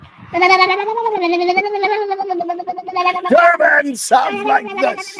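A cat meows repeatedly in long, drawn-out, wavering cries, close and loud, with a person speaking briefly near the end.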